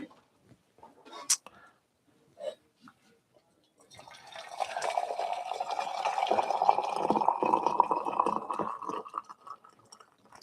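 Hot water poured from a Kogu kettle, a soft steady liquid stream building for several seconds after some faint clicks and handling noises, with quiet whispered talk near the start.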